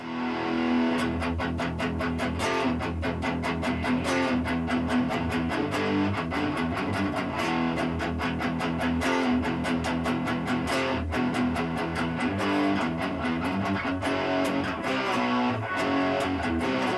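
An electric guitar built from a Pango Music Explorer kit plays distorted, metal-style riffs, a continuous run of chugging chords and notes that carries on for the whole stretch with no voices.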